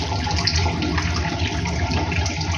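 Warm water runs steadily from a tap into a sink and is splashed onto the face, a continuous close rushing and splattering with no speech.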